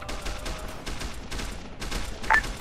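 Distant bursts of gunfire crackle through a low rumble, with one sharper shot standing out near the end, in an Arma 3 battle scene over a caravan and town.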